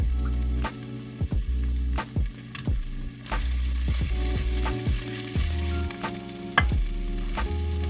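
Ginger frying in oil in a pan for Filipino adobo, a steady sizzle broken by repeated clanks and scrapes of a utensil stirring against the pan, close and fairly loud, with no talking.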